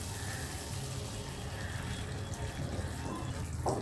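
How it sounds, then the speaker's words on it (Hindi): Half a cup of water poured into frying fish masala in a pan, a continuous gushing, splashing rush lasting several seconds, fairly close and alone without talk. "हम इसमें पानी ऐड कर देंगे 1/2 कप।"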